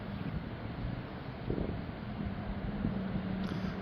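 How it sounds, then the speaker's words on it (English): Wind picks up ahead of a storm, rumbling and buffeting low and steady against the microphone over a few seconds with no voices. "Wind is picking up."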